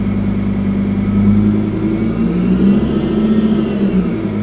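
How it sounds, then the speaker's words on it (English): A Lamborghini LP800-2 with a supercharger revs briefly, its engine droning with a rising and falling tone and a thin whine riding above the exhaust note, loud and close with no voices. "So you should be able to hear that whine from the supercharger."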